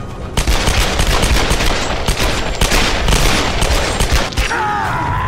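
Dense gunfire from dual pistols in the Tomb Raider Definitive Edition game, loud and continuous, mixed with rumbling battle noise and a few sharper reports.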